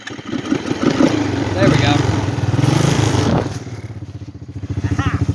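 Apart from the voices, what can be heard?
engine idling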